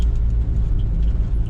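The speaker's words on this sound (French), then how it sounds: "On a vraiment une voiture puissante." A powerful car engine pulls hard up a steep mountain pass road in Kyrgyzstan, a loud, steady low rumble droning on without a break, with no voices over it.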